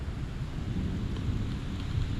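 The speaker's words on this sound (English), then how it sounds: "the clouds opened up and it raineth down" Heavy rain pours down in a dense, steady roar close by, continuous and broadband with no breaks.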